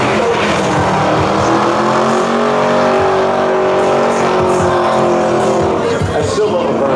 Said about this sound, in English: Come on, burnouts are great.